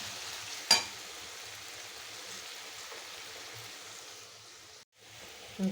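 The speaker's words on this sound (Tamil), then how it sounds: "எண்ணெயை ஊற்றிட்டு இந்த மாதிரி வதக்கிடுங்க வதக்கிட்டே இருங்க" Okra and onions sauté in oil in a Kerala home kitchen, giving a faint, steady sizzle with one sharp clack near the start and a brief drop in sound toward the end.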